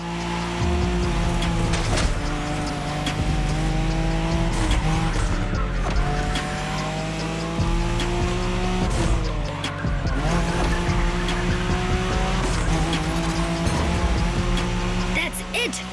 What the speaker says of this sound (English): When you manage to drift this bulky bodywork,